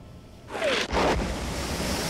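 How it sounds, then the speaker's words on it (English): Depth charges hit the water in the submarine game Silent Hunter IV: two heavy, booming splashes land in quick succession, followed by a lingering, rumbling wash of water noise. "are just charges hitting the water. They sound like shells, but still not good."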